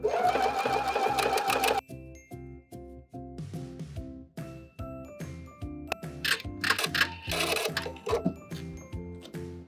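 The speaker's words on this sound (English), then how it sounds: "it goes backwards with a straight stitch, it makes a bar tack, it comes back with a zigzag stitch" Sewing machine with a buttonhole foot stitching a buttonhole on a cardigan made from a sweater, a loud close mechanical chatter that runs fast, pauses, then resumes in rhythmic bursts.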